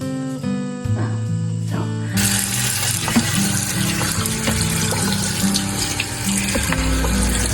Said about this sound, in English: So I got the cauliflower washed.